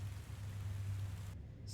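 A rain sound effect plays during a tabletop game session, a steady low rushing patter that cuts off abruptly near the end.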